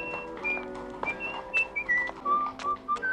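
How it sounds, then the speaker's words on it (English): A man whistles a short, wandering tune indoors, with quick separate notes that rise and fall, fairly soft and alone. "Whenever he starts whistling,"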